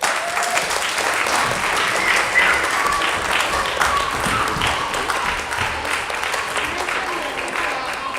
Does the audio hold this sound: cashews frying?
no